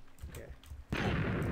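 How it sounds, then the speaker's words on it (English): A sudden explosion in the Minecraft video game bursts in loud and broadband about a second in, sustained as a dense roar after a quieter stretch of faint game ambience. "I just heard the explosion"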